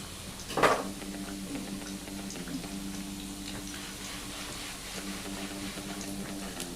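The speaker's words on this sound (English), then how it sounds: "So we are frying now." Quiet, steady sizzling of egg rolls frying in a pan, with a brief clatter near the start and faint ticking crackle throughout.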